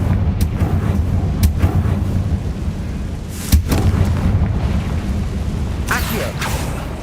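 Confringo spell blasts in the video game Hogwarts Legacy, heavy low booming impacts with several sharp cracking bursts spread across the stretch over a constant rumbling battle bed, with voices underneath.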